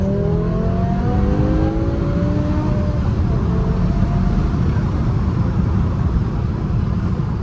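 A BMW E60 M5 accelerating hard from inside the car, its engine a loud, sustained roar with rising tones climbing through the revs and steady intake and exhaust rumble, no talking over it.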